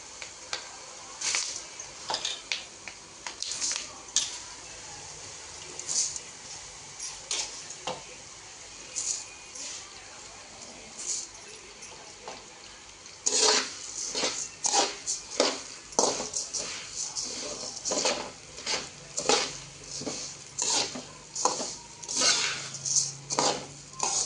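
Coriander seeds roasting over low heat in a pan, clinking and scraping as a utensil stirs them against the metal, with sparse knocks at first, then rapid rhythmic scraping, close and clear.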